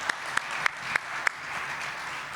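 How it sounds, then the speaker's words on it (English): An audience at a machine learning conference talk applauds the speaker, giving steady clapping throughout, with a few sharper, louder claps standing out at regular intervals near the start. "let's give Dr. GP a round of applause."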